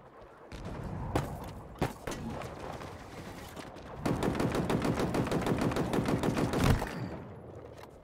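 Rapid automatic gunfire in Halo Infinite co-op on Legendary difficulty, with loud sustained bursts, a few isolated shots early on and a long dense volley near the end.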